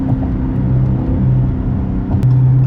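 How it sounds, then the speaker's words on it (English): Car exhaust after a mid-muffler delete, burbling at low RPM: a loud, close, continuous rumble with uneven popping pulses and a swell near the end, heard alone with no talking. "at the lower RPMs, I'm really liking the burbles it's giving"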